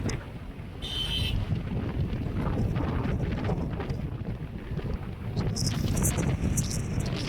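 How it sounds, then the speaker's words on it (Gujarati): Strong wind roars across a Himalayan mountain road on the way to Kedarnath, a steady, loud buffeting rush with gusts that swell and fade throughout. "કેટલો પવન આવે છે"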